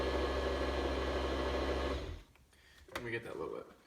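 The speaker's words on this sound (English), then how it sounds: "So all I do is just blend that up for a little bit." A Vitamix blender whirs steadily at moderate speed for about two seconds and then stops, followed by light kitchen clatter and quiet talk.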